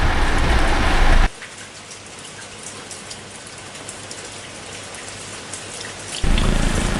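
Steady monsoon rain pours down in Mumbai, a dense hiss of drops on surfaces, broken up by a louder burst of noise at the start and end.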